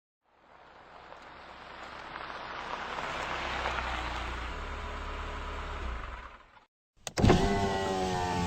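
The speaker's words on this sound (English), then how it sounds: "I hear a car coming." A car on a winter road in Quebec City draws steadily closer as a broad, rising wash of tire and engine noise, then cuts out abruptly before a brief burst of other sound.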